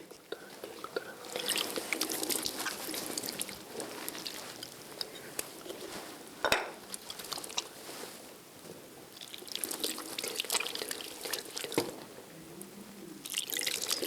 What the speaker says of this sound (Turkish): dökün baba yıkasın ellerini